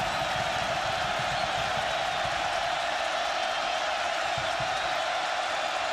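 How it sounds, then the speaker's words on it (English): A football stadium crowd at a college game between Oregon and Cal roars in a steady, broad wash of cheering that holds at an even level throughout, distant and diffuse rather than close. "The crowd is into it."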